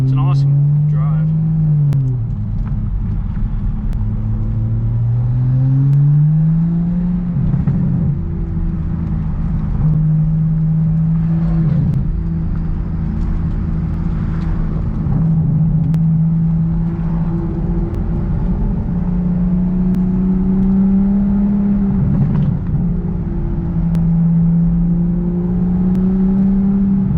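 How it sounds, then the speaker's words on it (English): Toyota A90 Supra driving on the road, its turbocharged engine droning and rising in pitch through repeated gear shifts, heard from inside the car under continuous talking. "Shifts are crisp, sounds great, bunch of turbo noise."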